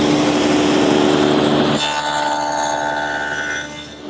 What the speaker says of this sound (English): Now I'm going to take a piece of 1/2-inch plywood and make a rabbet on all 4 edges